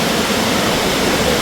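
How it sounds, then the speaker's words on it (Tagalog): Asen Falls in Sigay, Ilocos Sur, roars as a steady, dense wash of falling water, loud and unbroken for a short stretch, with no voices. "Ang ganda ng waterfalls."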